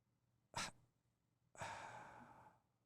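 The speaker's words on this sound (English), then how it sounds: "do kind of a staggered breathing like that" A person demonstrates staggered breathing up close: a short sharp inhalation followed a moment later by a longer, sustained exhale, both alone without talk.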